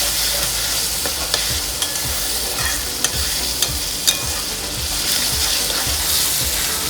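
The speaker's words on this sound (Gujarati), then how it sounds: "ટમેટા થોડા ગળી જાય એ માટે મીઠું, આદુ, લસણ ને મરચીની પેસ્ટ નાખવાની. થોડીક વાર તેલમાં તળવા દેવાની." Tomatoes with salt, ginger, garlic and chili paste frying in hot oil for soya keema masala, a steady close sizzle broken by regular scraping stirs of a spoon against the pan, with no talking.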